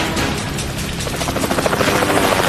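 A helicopter flying close and loud, its rotor chop pulsing steadily and growing more pronounced toward the end, with no voices over it.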